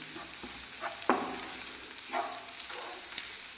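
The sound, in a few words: garlic frying and being stirred in pan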